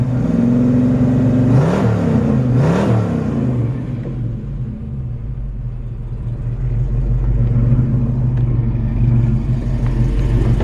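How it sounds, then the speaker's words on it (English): A 1966 Ford Mustang GT350 clone engine idles through a GT exhaust with a deep, throaty rumble, revving up twice in quick succession early on before settling back to a steady burble. "Really nice sounding engine."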